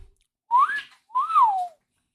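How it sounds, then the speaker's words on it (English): A pea whistle sounds in two separate blasts, each a clear tone that rises and then falls in pitch. Both are close and fairly loud, with silence around them and no voices. "The surprisingly fascinating story of Joseph Hudson and the pea whistle"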